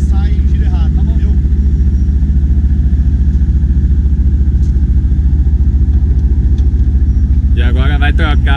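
A race car engine sits at a held, programmed launch rpm, a loud, steady droning roar that runs without a break, with voices talking over it near the start and again at the end.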